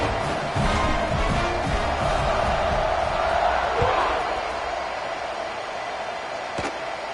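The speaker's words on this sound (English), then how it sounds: "this crowd is buzzing after that last score." Stadium crowd in the NCAA 26 college football video game, with a steady loud roar and buzz after a touchdown, holding across the whole stretch and easing slightly toward the end, with scattered thuds.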